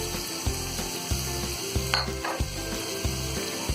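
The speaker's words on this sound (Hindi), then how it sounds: "आलूओं को भी हमने 3 से 4 मिनट लगातार चलाते हुए फ्राई कर लिया है" Potatoes and green peas sizzle steadily in a hot pan for a dry aloo matar sabji, with a spoon scraping and stirring in a regular rhythm of clunks over the constant frying hiss, close and fairly loud.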